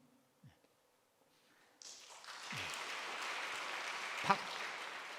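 A church congregation at a Korean Sunday service breaks into applause for newly elected elders after a quiet pause, the clapping swelling and holding as a broad, even wash with a single thump partway through.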